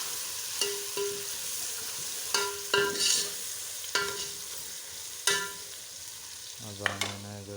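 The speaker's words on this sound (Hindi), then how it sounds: "इसके अंदर हमने एंटर किया अभी अदरक लहसुन डाल के इसको सही से मिक्स करके" Onions browned with ginger garlic paste being stirred in a pan, with repeated spoon scrapes and knocks over a soft sizzle of frying, fairly quiet with no talk.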